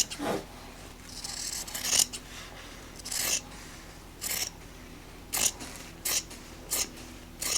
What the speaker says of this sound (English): What I think will achieve that look is just to cut out a square and then pleat it.